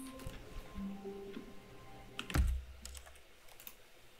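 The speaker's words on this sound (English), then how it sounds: "he pushed buttons on the keyboard." Keyboard buttons being pushed in The Stanley Parable Ultra Deluxe video game, a quick run of close, crisp taps and clicks with one heavier thump midway, alone over quiet background.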